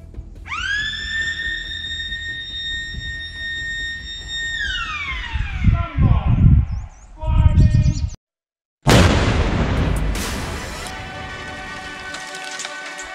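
A controlled blast test of a G-Shock GST-B300SD G-Steel watch: a rising siren-like tone fades into two heavy rumbling bursts, then after a sudden gap a loud broad crash and roar of debris slowly dies away.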